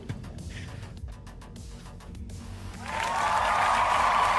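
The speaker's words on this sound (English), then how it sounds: "and the crowd goes wild." A crowd erupts in loud cheering and applause, a dense roar that swells up suddenly and holds steady to the end after a stretch of quieter, choppy background sound.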